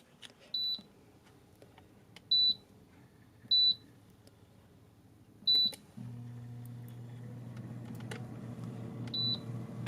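An air fryer gives five short, high electronic beeps at uneven intervals as its controls are set. A low steady hum starts partway through and runs under the later beeps, and no one speaks.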